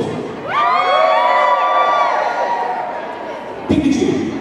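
Loud cheering erupts from a convention audience during a cosplay final, a sustained wall of shrieks and whoops that swells, tapers, then jumps again briefly near the end.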